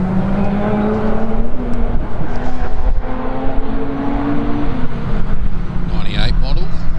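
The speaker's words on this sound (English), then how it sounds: "Okay, number 75. He's got the green Subaru wagon." A green Subaru wagon, a 1998 model, races up a hillclimb course, its engine revving loudly and shifting through rising and falling notes, with an announcer talking over it.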